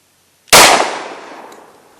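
A Glock 20 pistol with a 4.5-inch barrel fires a single 10mm 180-grain Magtech round into ballistic gel outdoors: one loud, sharp close-range crack after a brief quiet, trailing into a decaying echo.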